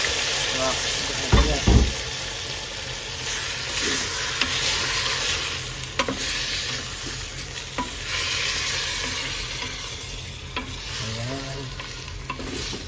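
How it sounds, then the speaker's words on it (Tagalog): Beef poured onto softened onions cooking in butter for caldereta, giving a continuous loud sizzle and hiss with stirring clatter, a spoon knock early on and a voice talking over the frying. "Ilalagay na natin yung karne ng baka, ha."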